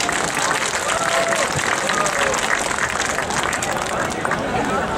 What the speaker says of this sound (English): Let's give a warm round of applause for Senator Wiener.